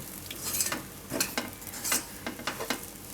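A roti snack gets stirred in a sizzling pan, with a spoon scraping in quick, irregular strokes over a steady frying crackle, close and fairly loud, with no one speaking.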